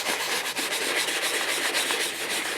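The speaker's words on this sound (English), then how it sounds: "I'm going to work it in circles here. And the goal is to essentially kind of scrub off some of that dye." A steady, close rubbing and scrubbing in small circles as dye is worn off a leather holster, soft and continuous with a faint rhythmic pulse.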